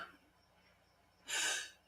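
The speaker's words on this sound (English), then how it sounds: "Oh, I'm going to sneeze" A single short sneeze bursts out near the microphone after a quiet, breathy pause, loud and sharp, then fades within half a second.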